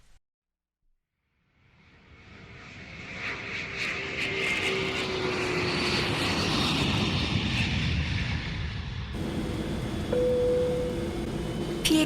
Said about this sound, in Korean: 내가 탑승한 보잉 777 항공기가 뉴욕 케네디 국제공항의 활주로에 막 내려앉은 때였다.